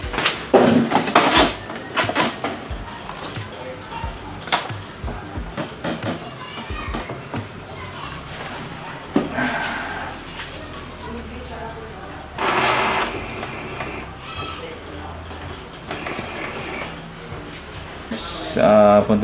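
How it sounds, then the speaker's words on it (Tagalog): An Epson L360 inkjet printer running a nozzle check, whirring and clattering in uneven bursts with louder mechanical surges of feed and print-head motion, close by, with some talk at times. "Test natin. Nozzle check tayo."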